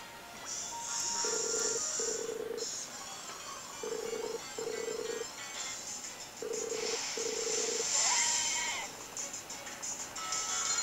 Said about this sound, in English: Skype was ringing on my phone